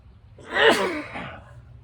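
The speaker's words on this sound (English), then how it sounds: "I always sneeze in threes." A single sharp human sneeze outdoors, a quick gasping intake building into one loud burst that trails off, with faint background hum.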